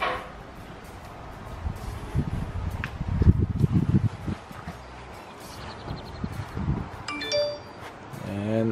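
A Swann 4K Ultra HD NVR-8580 security camera system chimes a short electronic notification tone near the end, after several seconds of thumps and handling noise in a quiet room.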